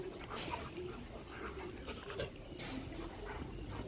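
Dogs eating fruit give soft, brief whimpers amid wet chewing and rustling, heard close with a voice talking over them.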